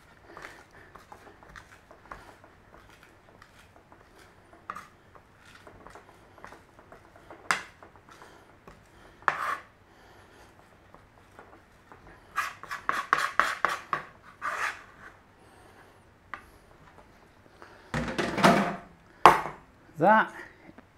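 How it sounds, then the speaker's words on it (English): Garlic is mashed for a zesty spicy mustard aioli, giving soft repeated tapping and scraping against a bowl or board that is faint at first, then grows into louder clustered bursts of grinding and knocking. "So let's just whiz up some garlic. Just give it a really good mashing."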